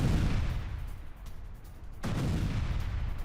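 Bombardment during an attack on Lebanon: deep, rumbling blasts and heavy low roar fill the scene, a sustained barrage that dips briefly and then swells again, loud and without voices.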